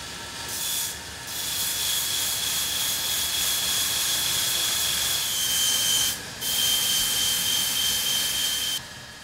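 Straight razors are ground on a grinding wheel in a Solingen grinding workshop, a sustained abrasive hiss with a high whine that breaks off briefly a few times, moderately close with no voices.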